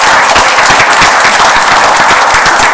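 Congregation at a Sunday church service breaks into applause, a loud, close, steady wash of many hands clapping that fills the whole short stretch without pause.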